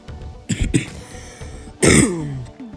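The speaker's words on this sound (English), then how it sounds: "sorry guys, I have a cough" Someone clears their throat, then lets out a harsh cough close by, with short pauses between.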